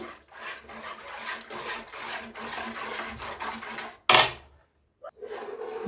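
A thick Bombay halwa is scraped and stirred in a pan as it firms up with added ghee, giving steady rough rubbing strokes. A sharp, louder scrape or clatter follows near the end, then a brief quiet.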